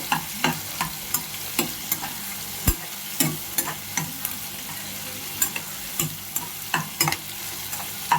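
Dried fish frying with onions in a pan for gongura curry, a continuous sizzle broken by regular sharp scrapes and knocks of a stirring spoon against the pan, close and alone.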